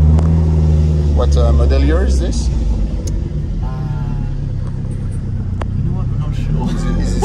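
Maserati Shamal engine rumbles steadily at a low idle in New York, low-pitched and continuous beneath close conversation between two people.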